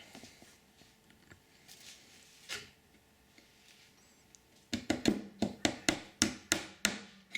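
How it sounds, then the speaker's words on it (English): After a few scattered quiet knocks, a steady burst of about ten hammer blows taps a small metal eyelet halfway into a wooden beehive frame, close and sharp. "Just halfway, don't hammer it in all the way."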